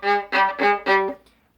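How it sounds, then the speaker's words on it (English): A minor second, a semitone interval, sounded as four sustained pitched notes in close succession, each ringing clearly before the last fades out, recalling the creeping two-note shark theme. "of a minor second, also known as a semitone"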